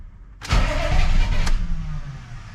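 A diesel engine with a DB2 injection pump, from the 6.2L to 7.3L family, cranks and catches. The loud engine noise swells suddenly and then settles into a rougher idle as it fades slightly.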